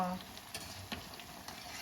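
Steady, quiet sizzling of an omelette with stink beans frying in a pot, soft crackles and a couple of faint scraping stirs, close by, no talking.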